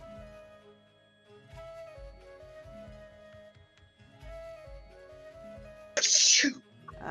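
A single loud, abrupt sneeze bursts out near the end, after a stretch of soft background music.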